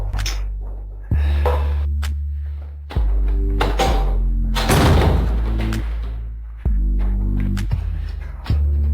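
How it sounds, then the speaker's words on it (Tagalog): A door closes with a series of solid, close thunks and slams, four heavy impacts spread out over a low steady hum, with no voices. "isara mo ang pinto"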